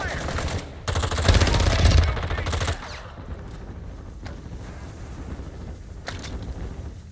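Video game machine gun fire crackles in a dense, loud burst near the start, followed by quieter scattered shots and wind-like noise in the background.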